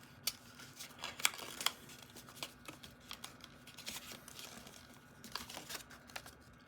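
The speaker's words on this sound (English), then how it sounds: "Pedal fold it up." Origami paper being pedal-folded by hand, a series of faint close crinkles, creases and sharp little paper snaps scattered irregularly across several seconds, quiet and with no voices.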